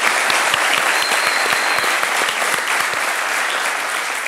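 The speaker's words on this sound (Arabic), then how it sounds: "تصفيق على ياسين سعيد" A studio audience on a Tunisian TV talent show bursts into loud, sustained applause for Yassine, dense clapping that fills the room throughout and eases off only slightly at the end.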